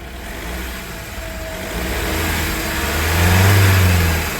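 A 2017 Mahindra XUV500 W10 engine revs up from idle, the low rumble swelling louder toward the end, close and without speech.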